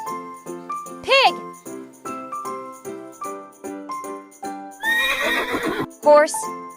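A horse gives a loud whinnying neigh, then a second long, shaky neigh near the end, over a light children's tune with jingling and faint hoof clip-clops.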